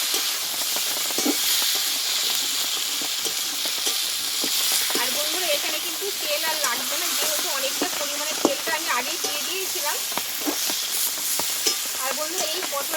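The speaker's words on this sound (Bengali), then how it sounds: "এই চিনিটা দিয়ে আমি আরও কিছু পটলটাকে ভেজে নেবো" Pointed gourd (potol) fries in a pan with sugar, giving a steady close sizzle and hiss with scraping stir strokes throughout, and a faint voice sits low in the mix.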